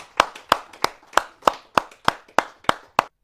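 At a Hindi poetry gathering, a single pair of hands claps close by in a slow, even rhythm of about ten loud, crisp claps, then stops.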